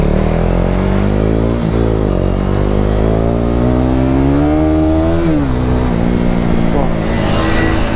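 A motorcycle on Apollo Alpha H1 tyres runs loud and close, its engine note rising and falling steadily as it accelerates, with rushing wind noise throughout.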